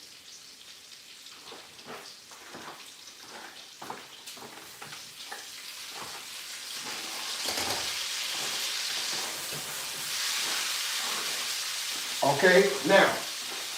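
Fresh vine-picked green beans sizzle and crackle in a skillet, starting faint and growing louder and steadier. A voice speaks briefly, and a few clattering stirs come near the end.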